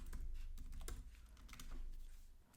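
Rapid, close keystrokes on a computer keyboard while JavaScript code is typed into a text editor, irregular clicks over a low background hum with no voices.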